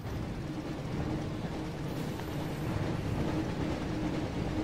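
Steady rumbling rail noise of a train rolling along in the Harry Potter and the Chamber of Secrets game (2002), a continuous dense roar with faint rhythmic clatter and no voices.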